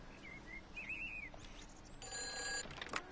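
A telephone rings inside the video game Everybody's Gone to the Rapture, a warbling electronic ring heard fairly faint over ambient outdoor sounds and chirping birds, with a second brighter burst of ringing toward the end.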